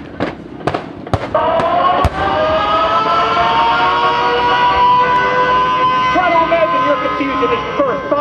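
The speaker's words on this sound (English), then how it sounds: "Hear the sirens, just as they did." A few sharp bangs give way to a loud, sustained wailing air raid siren that holds a steady rising tone, with a voice speaking over it, during a Pearl Harbor attack reenactment at an air show.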